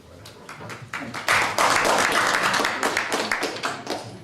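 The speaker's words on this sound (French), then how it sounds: "C'est bien de l'applaudir puisque c'était son dernier procès verbal." Audience applause at a formal session honouring Philippe Massin on his final report, a broad wash of many hands clapping that swells after the first second and stays dense and steady, with scattered individual claps standing out.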